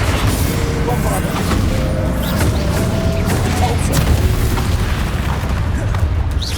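A Bombarda explosion spell in the Hogwarts Legacy video game, heard as a sustained dense rumbling blast roar with crackling debris, loud and continuous, with game voices faintly mixed in.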